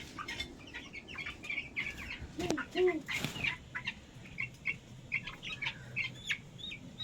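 Hens cluck and chirp among other birds at a poultry farm, with short bursts of calls and a few louder, nearer squawks in the middle against steady background activity.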